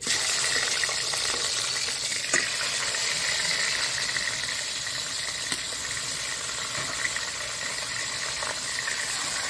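Fish frying in hot mustard oil in a wok, giving a steady, bright sizzle that holds throughout with a few small pops, close and without talk.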